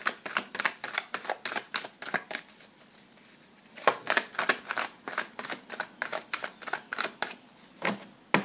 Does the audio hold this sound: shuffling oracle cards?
yes